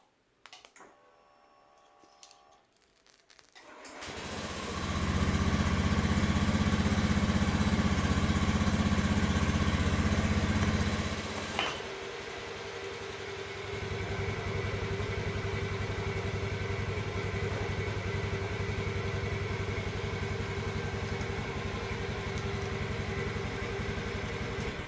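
A Honda Beat scooter engine starts, with a loud initial burst that settles into a steady, close idle running alone for the rest of the stretch.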